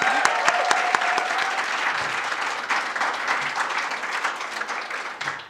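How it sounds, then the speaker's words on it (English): A large audience at a formal awards ceremony bursts into sustained, dense applause that stays loud and steady throughout, with no talking over it. "Can I hear another round of applause for the Monet?"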